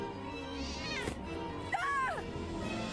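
A cat meows twice inside the Vertigo video game, rising and falling calls over a low background hum, moderately clear within the game audio.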